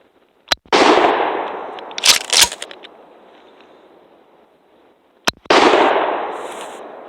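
Two loud shots from a shoulder-fired gun, heavily loaded with powder, each a sharp crack followed by a long roaring blast that fades over a few seconds, with a cluster of smaller pops between them.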